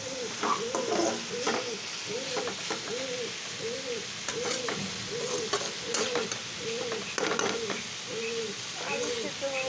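Bitter gourd and potato fry in a pan over low gas, a steady sizzle with stirring noises under a repeating, soft cooing-like tonal sound in the background.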